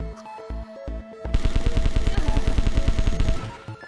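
Gunfire in a video game, a quick, steady stream of loud shots packed close together after a short lead-in of sparse musical tones, rattling on for about two seconds before tapering off.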